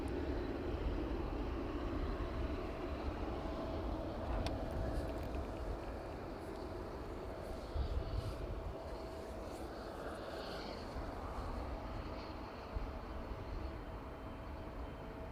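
A cargo aircraft in from Dubai begins to taxi at East Midlands Airport, its engines a steady distant rumble and whine that holds evenly throughout, faint against outdoor background noise.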